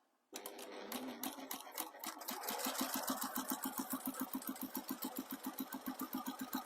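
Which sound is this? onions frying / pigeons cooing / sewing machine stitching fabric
sewing machine stitching fabric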